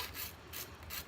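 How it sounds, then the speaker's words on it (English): A small nail file rasps back and forth over the edges of a fired enamel piece, giving steady close scraping strokes in a quick rhythm with no talk. "A little nail file here. If there was any little edges that I didn't like, we'll just give a good little"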